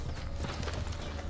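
The horse Roach gallops in The Witcher 3 video game, with rapid, even hoofbeats thudding close and loud over a low rumbling ambience.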